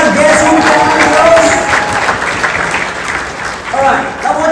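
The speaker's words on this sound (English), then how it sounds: "Can we give a round of applause to all these 5 guests who came on the" A crowd at a home business meeting applauds guests, producing dense, loud, continuous clapping that lasts throughout, with a voice speaking over it near the end.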